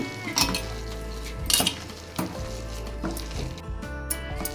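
Vada masala is mixed with curry leaves and coriander in a metal bowl, giving close scraping and clinking strokes with a few louder knocks against the side.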